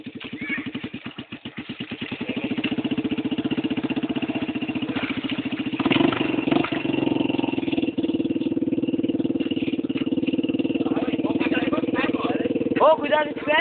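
A dirt bike engine idles on a trail as smoke comes from the motor, a steady close mid-pitched putter with clatter and occasional revs, while people talk over it.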